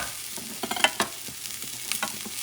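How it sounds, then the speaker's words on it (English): Chopped garlic frying in a pan and stirred quickly, a steady sizzle punctuated by repeated sharp scrapes and taps of a utensil against the pan, close and alone. "Going to add the garlic, 2 teeth chopped, both teeth of garlic chopped. Mix it up fast."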